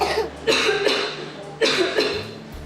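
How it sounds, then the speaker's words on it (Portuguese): A person coughing from a cold-weather respiratory illness, two close harsh bursts of several coughs each, loud and near with no talking. "E é a tosse que promove a velha e conhecida Sinfonia do Frio."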